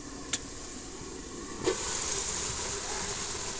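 Ripe, soft tomatoes frying in a pan during village home cooking: a steady steam-like hiss that swells louder partway through, with a brief click near the start.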